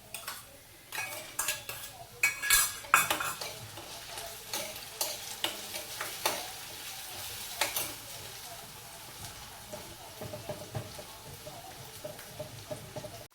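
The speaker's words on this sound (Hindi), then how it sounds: "अलग से तड़का दे रही हूँ दाल को" Spices sizzle and fry in a hot pan as tempering for lentils, with a spoon stirring and scraping against the metal; a faint voice talks in the background.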